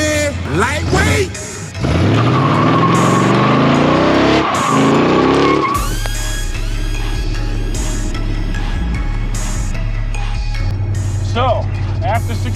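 A car with a small-block Chevy Vortec V8 revs hard through a burnout, tires squealing and sliding in rising, wavering shrieks over a loud engine roar, then settling into a heavy idle with short bursts and people speaking.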